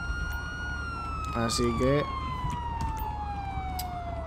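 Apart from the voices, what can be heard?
police siren in video game GTA LSPDFR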